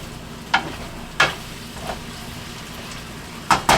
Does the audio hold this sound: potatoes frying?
yes